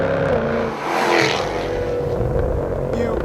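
A Jaguar F-Type V8 S engine accelerates hard, a loud, close, rising roar that swells and holds, with a dip in the low rumble as the revs climb.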